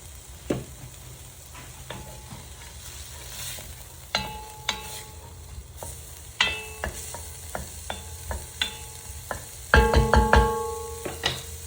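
Onions cook in a pot on medium heat for pumpkin soup, a gentle sizzle with frequent stirring clatter and utensil knocks against the pot, busier near the end.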